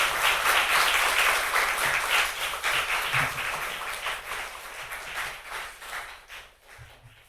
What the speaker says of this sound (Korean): 우리 큰 박수로 강사님을 모시겠습니다.